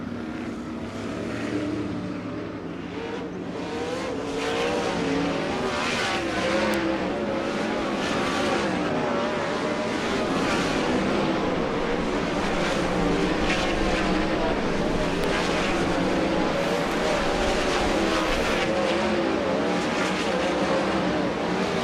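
Wingless sprint cars lap Angell Park Speedway in a World of Outlaws hot lap session, a dense continuous roar of engines that swells and shifts as the cars pass, with an announcer talking over it.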